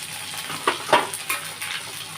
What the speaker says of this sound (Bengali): আমি 1 চামচ আদা দিচ্ছি,